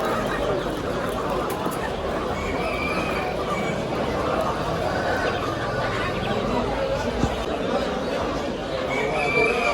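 Chickens, including blue egg-laying hens, cluck and a rooster crows amid the bustle of a Turkish poultry and exotic animal market, the birds close and continuous beneath bargaining voices.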